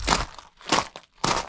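Three loud crunching bursts close by, a horse chewing food with crisp grinding crunches separated by short pauses.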